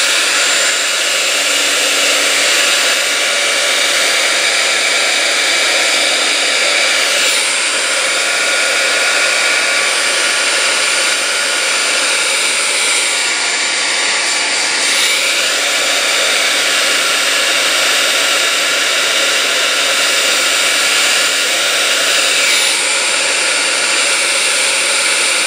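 A heat gun heat-sets rolled paper, blowing a loud continuous roaring hiss that holds steady from start to finish, with no voices.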